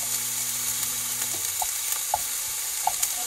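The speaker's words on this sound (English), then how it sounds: "So I've got all these little chopped onions I just chopped, and we'll put them in there." Chopped onions sizzle steadily in a hot pan for homemade sloppy joes, a continuous frying hiss with occasional small pops and stirring clinks, close and fairly loud, with no talking.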